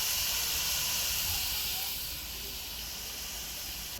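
Onions sautéing with a little salt in a pan for wedding-style sambar give off a steady, close hiss of sizzling that eases slightly partway through, with no talking.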